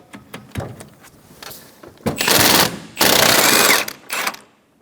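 An impact or power tool spins off the strut top nut with a 24mm socket on a 2012-2020 Chevrolet Sonic, a few short clicks, then two loud sustained whirring bursts and a final brief burst, close up.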